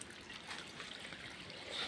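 A thin trickle of water runs from a mountain spring, a faint, continuous, uneven splashing and babbling close by, with no speech.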